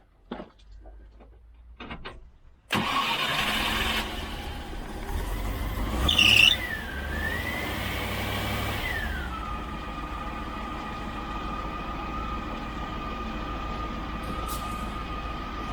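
A Rover V8 fitted with a Pertronix Ignitor in a Lucas distributor cranks and catches, then settles into a steady, moderately loud running note whose pitch rises and dips before holding a stable idle.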